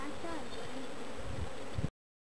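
Honey bees hum in a dense, continuous buzz during a midsummer hive inspection, close and steady for under two seconds before cutting off abruptly.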